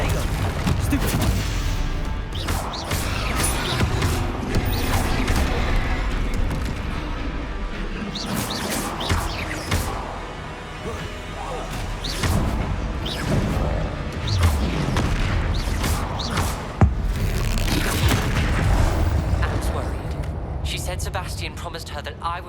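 Explosive Confringo spell blasts from Hogwarts Legacy boom repeatedly amid other spell and combat effects, loud bursts arriving in irregular clusters, with a player's voice talking over much of the gameplay.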